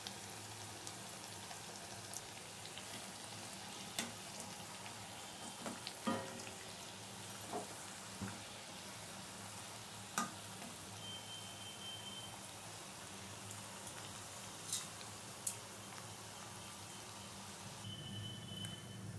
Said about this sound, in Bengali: এবারে লাল লাল করে আমি ভেজে নেব। কমানো গ্যাসে